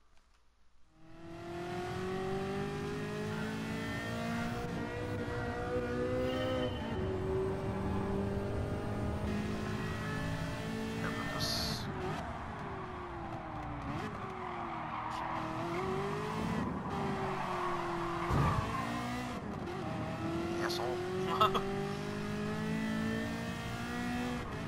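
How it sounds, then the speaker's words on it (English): A Ford F4 race car in Gran Turismo Sport roars loud and continuous, its engine pitch rising and falling through gear changes, with tire squeals and skids mixed in and no talking. "So this is the F4, which sounds pretty fucking loud, to be honest, in comparison to other ones."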